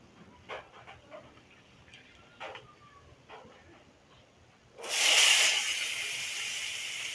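Chopped onion dropped into hot oil in a pan while cooking Bengali katla fish curry, bursting into a loud, steady sizzle after a few faint clinks and rustles.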